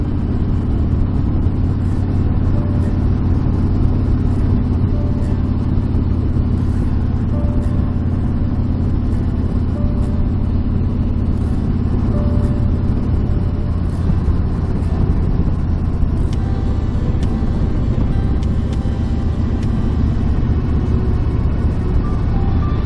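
A three-wheeled motorcycle cruising along a road in warm weather, its mid-pitched engine humming steadily with wind rumble for the whole stretch, no talking over it.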